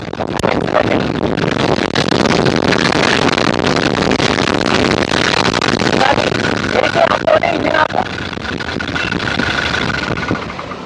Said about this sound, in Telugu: ఇంజిన్ యొక్క నాయిస్ చాలా సైలెంట్గా ఉంది